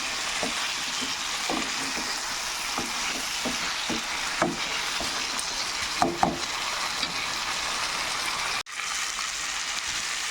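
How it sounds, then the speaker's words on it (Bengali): Spices and vegetables frying together in a pan for an alu-fulkopi bhola fish curry: a steady close sizzle throughout, with occasional soft scraping and stirring knocks, and no talking. "এবার আমি মশলাটা সবজি দিয়ে ভালো করে কষিয়ে নেব।"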